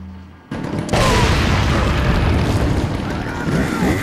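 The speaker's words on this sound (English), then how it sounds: "I'm going to go ahead and throw another grenade before we get too many in here" A grenade blast in Resident Evil 4 goes off with a heavy, loud boom that jumps in abruptly and then rolls on as a long, dense rumble with scattered debris and crackle underneath.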